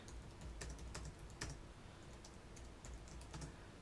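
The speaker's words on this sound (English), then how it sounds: "So I can go into apps like messaging and I could type out a message." Typing a message on the keyboard of a Sony Xperia Z tablet, quick irregular clicks and taps heard close and fairly quiet, alone without talk.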